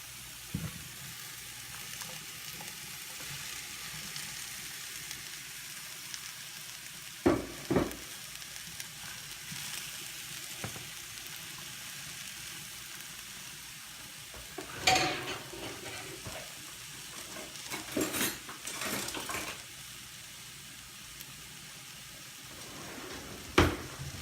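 Asparagus cooking in a pan, a faint, steady low sizzle running throughout, punctuated by a few sharp clinks and scrapes of a utensil against the pan.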